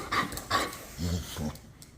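A dog pants in short, close bursts of quick breathing, with brief whimpering sounds between them, right before someone speaks to it.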